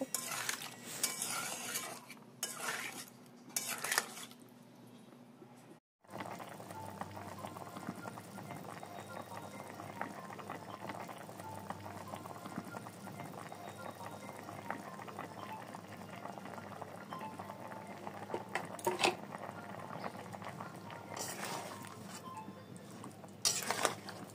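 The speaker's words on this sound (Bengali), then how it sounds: "পরিমাণ মতো জল দিয়ে সব ভালো মতো একসাথে নাড়িয়ে নেব।" Chicken curry simmering and bubbling in a pot after water is added, a steady close boil with occasional utensil clinks and stirring, faint voices briefly in the background.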